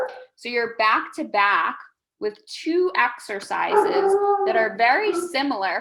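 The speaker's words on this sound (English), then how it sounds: "Sorry about the dog." A dog barks and howls indoors during a strength-training session, with drawn-out tonal howls and yips running under a person's steady talking.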